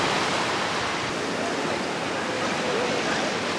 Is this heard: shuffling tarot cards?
no